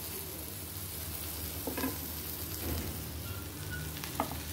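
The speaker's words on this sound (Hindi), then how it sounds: "बटर वाले साइड को नीचे की तरफ, इसे मुझे एकदम लो फ्लेम में एकदम क्रिस्प होने तक फ्राई करना है।" Bread laid butter side down frying in a pan on a very low flame, giving a faint, even sizzle with a few soft crackles and no voices.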